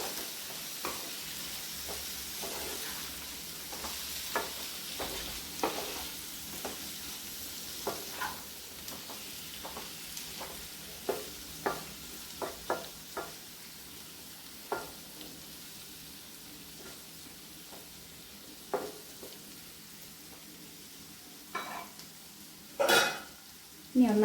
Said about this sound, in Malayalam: ഇനി നല്ലപോലെ ഒന്ന് ഇളക്കി യോജിപ്പിക്കാം.